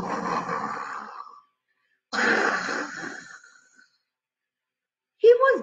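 A voice imitates snoring with two long, breathy, rasping inhales and exhales separated by silence, followed by a brief sharper vocal sound at the end.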